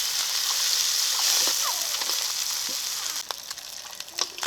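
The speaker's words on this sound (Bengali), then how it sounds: "মাছগুলো ভাজা হয়ে গেছে এখন তুলে নিচ্ছি" Chanda fish fry in oil with a continuous loud hiss and crackle that thins out toward the end, where a few sharper clicks and scrapes appear.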